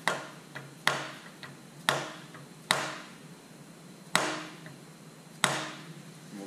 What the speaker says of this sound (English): we'll drive that pilot bearing down to the bottom of the hole